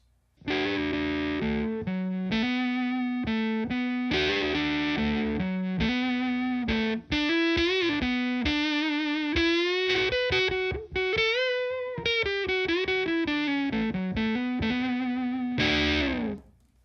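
Electric guitar on the neck pickup played through a Big Muff fuzz pedal, a thick, sustained, heavily distorted tone over a run of held notes and quick riffs, loud and alone for the whole stretch before stopping abruptly.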